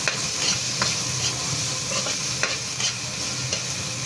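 Ginger sautéing in a little cooking oil for chicken feet tinola gives a steady, close sizzle, with stirring scrapes and clacks breaking through now and then. No voices are heard.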